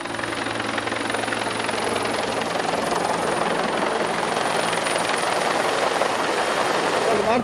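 A helicopter searching from the air for a missing child in Samsun, Turkey, roars steadily close by, its rotor thump and engine whine loud and unbroken throughout.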